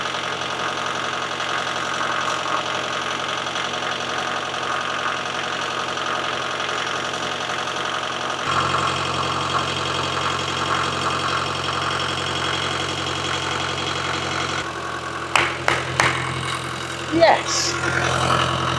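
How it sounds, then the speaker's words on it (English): A car engine idles steadily just after a fresh oil and filter change, running smoothly at an even hum, with its tone shifting partway through and a few sharp knocks near the end. "it fired up and actually runs really nicely. The engine sounds great."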